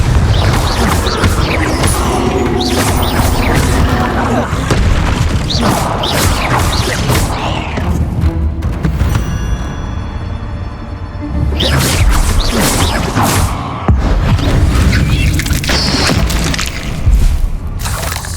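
Confringo blasting-spell explosions in Hogwarts Legacy, loud crashing booms and debris bursts recurring through a dense, busy battle mix with a quieter stretch in the middle.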